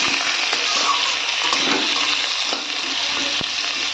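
Potatoes and fish curry ingredients stirred in a pan, a wet sizzling and sloshing texture with scraping movements, continuous and close.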